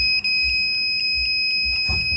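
Arduino microcontroller buzzer on a rotary safe password project sounds a steady electronic beep, loud and close, repeating in short pulses with a longer tone near the end, no talking.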